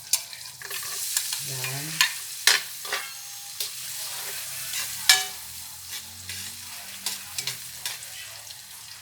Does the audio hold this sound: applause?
no